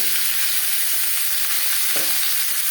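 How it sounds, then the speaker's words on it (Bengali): Papaya pieces fry in hot refined oil, a loud, dense, steady sizzle filling the whole stretch with one soft stir. "তেল গরম হয়ে গেছে এবার দিয়ে দেবো পেঁপে পেঁপে আমি হালকা করে ভেজে নেব"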